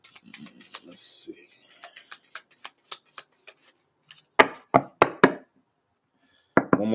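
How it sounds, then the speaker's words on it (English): Soft papery flicks and taps of tarot cards being shuffled up close, followed by a few sharper riffling bursts and brief pauses between them. "One more shuffle and then we'll cut."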